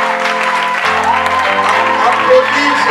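A church congregation claps along in praise while music plays. The clapping is steady and sits under sustained organ-like tones and some voices.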